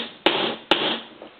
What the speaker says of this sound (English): and I'm going to hammer.